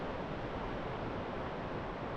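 Rushing water of the West Fork San Juan River, a stream along a trail near Pagosa Springs, Colorado, heard as a steady, even broadband roar without pauses or voices.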